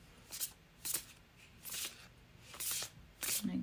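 Tarot cards are shuffled by hand in a series of quick riffling bursts, about six in all, each a crisp papery flutter up close and separated by brief pauses.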